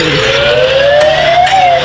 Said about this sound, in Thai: มีเสียงรถตำรวจด้วย